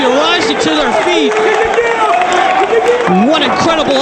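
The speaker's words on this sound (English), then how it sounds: "Listen to this crowd." A Ring of Honor Final Battle wrestling crowd in a Philadelphia arena roars and cheers continuously, loud and close, with a commentator talking over the noise throughout.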